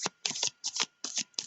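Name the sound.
shuffling tarot cards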